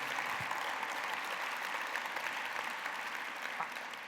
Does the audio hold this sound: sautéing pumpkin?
no